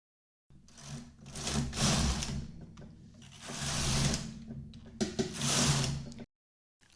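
Knitting machine carriage running back and forth across a main bed, knitting rows: three loud, rough mechanical sweeps with a low rumble and quick stops between passes, close and alone.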